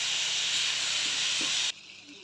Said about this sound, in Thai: ผัดไปเรื่อยๆค่ะให้หมูสุกพอหมู กับพริกแกงเข้ากันดีแล้ว